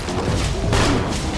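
A grenade in Borderlands 2 goes off as a loud, dense blast that rolls on with a heavy rumbling tail.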